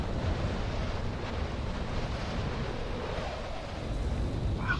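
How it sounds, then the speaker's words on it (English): Wind blows in the video game Dark Souls 3, a steady loud rushing whoosh that fills the whole stretch without any break. "You worried about the damn wind?"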